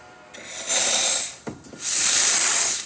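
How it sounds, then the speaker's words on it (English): A Vibiemme espresso machine's steam wand purges after a full tune-up, giving two loud, strong bursts of hissing steam separated by a brief pause with a faint clunk, and no talking. "Nice strong steam."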